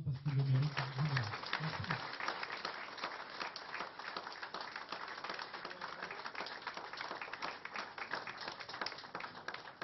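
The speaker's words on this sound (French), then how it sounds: "Je vous demande de les applaudir très chaleureusement parce qu'ils le méritent." An audience at a French award ceremony applauds the recipients warmly, steady dense clapping filling the room for several seconds after a brief voice at the start.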